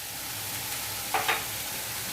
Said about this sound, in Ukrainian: поки морква у нас піджарюється